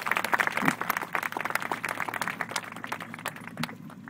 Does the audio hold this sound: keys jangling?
no